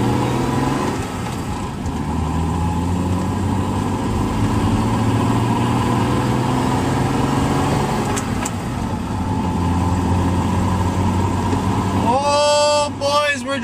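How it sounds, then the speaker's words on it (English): A BMW E36 with a freshly swapped manual gearbox and short shift kit drones steadily while driving slowly, its engine and transmission whining without pause under the cabin noise. "Now I can kind of hear the transmission and engine whining"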